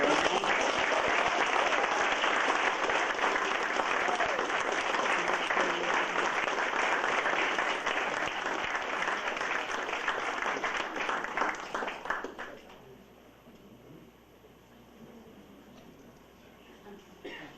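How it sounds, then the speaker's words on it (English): A conference audience gives sustained, dense applause to welcome a speaker before a presentation on remote viewing. The clapping stays loud for about twelve seconds, then fades into quiet room noise. "thank you for the applause"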